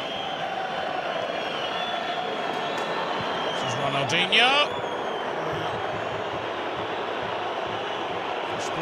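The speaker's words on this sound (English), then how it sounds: "There's plenty of stick here from the crowd." Football stadium crowd at a Real Madrid versus Barcelona El Clasico keeps up a dense, continuous roar under a commentator's voice, swelling briefly with whistles in the middle.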